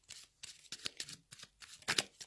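Tarot cards being shuffled by hand in a string of quick papery riffles and slaps, close and fairly quiet, with short pauses between bursts and no talking.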